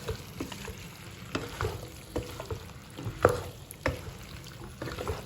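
Potatoes and green capsicum sizzling softly in a pan while a spoon stirs them, with scattered scraping knocks against the pan over a steady frying hiss.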